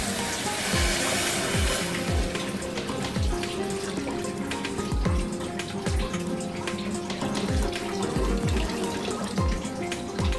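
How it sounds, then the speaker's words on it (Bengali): Boiled milk is poured into a pan of roasted tea for homemade tandoori chai, making a steady, continuous liquid splash and trickle with no talking. "এবার আমি জাল দেওয়া দুধটা এর মধ্যে দিয়ে দেব।"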